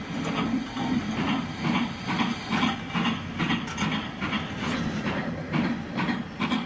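A steam locomotive in a video game, an LMS Duchess class 4-6-2, rumbles steadily with a rhythmic clacking beat and a faint high whine on top, continuous and moderately loud, with no voices.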